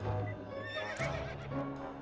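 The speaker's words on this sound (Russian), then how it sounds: "не проходить мимо этой лошадки?" Horse in the To the Moon game neighs in a shrill whinny, close and fairly loud, with clip-clop hoof steps around it and no talking.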